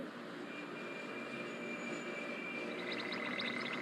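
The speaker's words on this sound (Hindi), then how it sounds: "ये मिस्टर चामा की स्पेशल ट्रेन है" A special train in a cartoon, a steady rumbling rolling sound with a faint high whine that grows slightly toward the end, where light metallic ticking joins in, with no talk.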